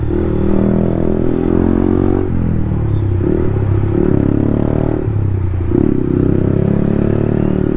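Yamaha MT15 motorcycle pulling away on a road, its engine note steady and loud with a few rises and dips in revs as it accelerates, close to the microphone with no talking.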